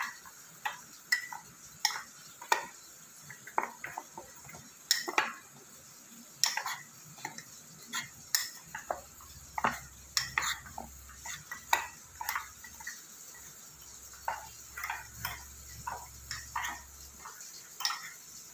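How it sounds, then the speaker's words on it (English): Mug cake batter stirred in a mug, a long series of rhythmic clinking taps and scrapes of a spoon against the sides, soft and close, with a faint low hum in the background. "Now we're just going to stir this until it's all well incorporated."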